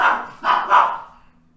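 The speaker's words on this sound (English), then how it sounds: "my dog is fucking barking" A dog gives three quick, sharp barks close by, the last one trailing off into quiet room tone, with no talking over them.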